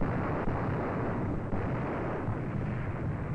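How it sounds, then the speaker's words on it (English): Naval gun salvo striking a ship in a 1945 wartime film, heard as a sustained, loud, rumbling blast roar with dense low-end noise and no talk. "The first salvo, a direct hit."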